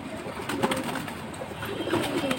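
Close cooing of high-flying pigeon chicks, soft rolling calls repeating over a steady background hiss, with no voices.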